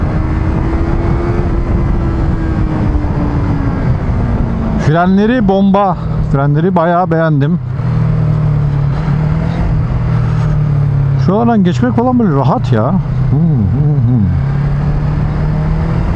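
A 2020 Yamaha R25 motorcycle with its stock exhaust revs hard in two rising and falling bursts, heard beneath someone talking almost continuously over steady road and wind noise.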